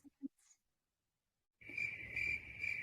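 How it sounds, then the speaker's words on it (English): A cricket chirping sound effect starts after a few soft brief noises and a short silence, then trills continuously and fairly loudly in a steady pulsing rhythm. "Crickets."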